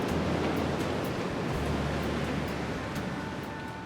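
Ocean waves breaking on a shore make a steady, broadband wash of surf with a low rumble underneath, loud and continuous throughout with no voices.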